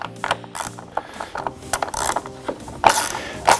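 A 15 mm socket on a ratchet unscrews a headlight adjuster pin on a Jeep JK, giving rapid clicking pawl bursts and metallic ticks in close, irregular spurts with no talk.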